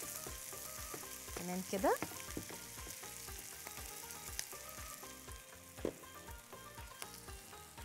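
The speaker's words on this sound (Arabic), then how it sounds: "بدا اهو يتكرمل مع معلقه السكر" Onions caramelize with a spoonful of sugar in a frying pan, making a steady close sizzle broken by a few stirring scrapes, and a voice speaks briefly.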